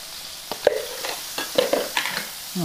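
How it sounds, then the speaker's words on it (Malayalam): Masala with Kashmiri chilli powder, turmeric and coriander powder being sautéed in oil for a dried fish curry: a few soft scraping stirs and faint sizzles at close range, intermittent and fairly quiet. "നമുക്ക് വഴറ്റി കൊടുക്കാം."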